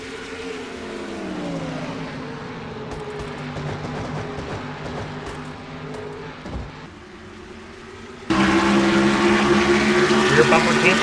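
Race cars in a NASCAR-style racing video game roar steadily around the track under green flag, engine drones shifting in pitch, with a louder burst of engine noise near the end.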